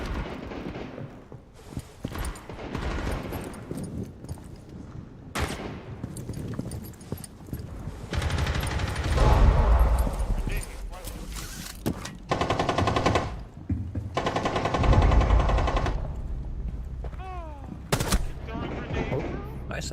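Rapid gunfire bursts with a grenade blast in a tactical shooter match, loud and repeated in clusters, with players talking between and over the shots.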